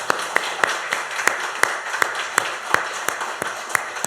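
A church congregation at a Sunday morning service claps together in a steady, even rhythm, each sharp beat spaced evenly over a soft room background.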